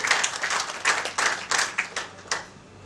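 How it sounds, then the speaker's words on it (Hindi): An audience at an anniversary ceremony on a stage breaks into a short burst of applause, uneven clapping that rises and falls in waves before fading out after a few seconds. "जोरदार तालियां हमारे लिए।"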